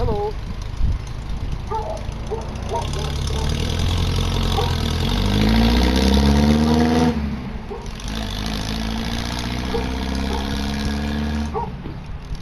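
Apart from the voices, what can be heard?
antique MG sports car engine driving away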